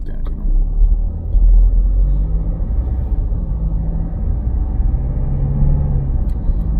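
Steady low rumble of a car driving along Heidelberger Straße in Darmstadt, Germany, with continuous road and engine noise throughout.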